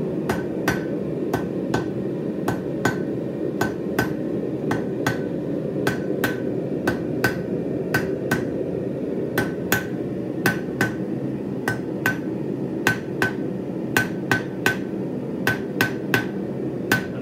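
A hammer forging round stock on an anvil, squaring it for a forged hair pin: sharp metallic ringing strikes in a steady rhythm of about two per second, close and loud over a low background rumble, no talk.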